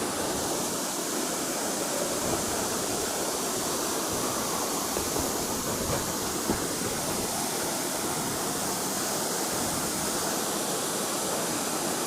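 Punnayar waterfall in Idukki roars as a dense, unbroken rush of falling water, loud and close, filling the whole scene without pause and with no voices over it.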